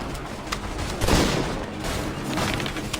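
Musket volley in an Assassin's Creed 3 battle, a dense roll of overlapping distant shots and booms spread across the moment, with one louder swell in the middle of the din.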